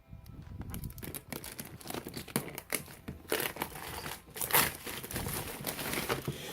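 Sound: tearing open plastic packaging of a camera gimbal

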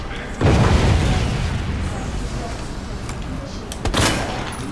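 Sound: explosion in Resident Evil 2 Remake video game

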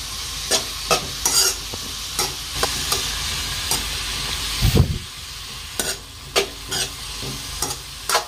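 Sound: stirring masala into cabbage egg fry in a pan

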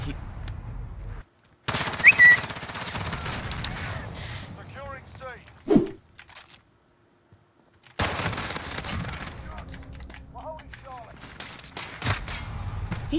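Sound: gunfire from akimbo Renetti burst pistols, Modern Warfare video game

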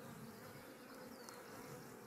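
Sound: bees buzzing

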